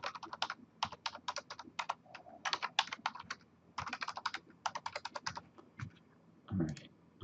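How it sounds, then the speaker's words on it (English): Rapid bursts of keystrokes on a computer keyboard as a password is typed, clicking in quick irregular runs with short pauses, close and clear with no talking. "Type our password in."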